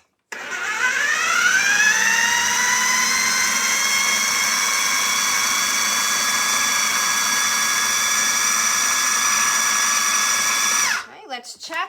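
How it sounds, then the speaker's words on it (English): A blender runs loud and steady, whirring sweet potato dip with plain yogurt until creamy, its motor pitch rising as it spins up, then holding constant for about ten seconds before cutting off abruptly. "let's blend this all together, and we're just gonna wait until it gets all creamy"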